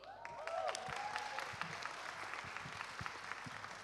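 An audience claps for students at a university symposium. The applause is faint and scattered, with a few sharp distinct claps over a soft continuous patter.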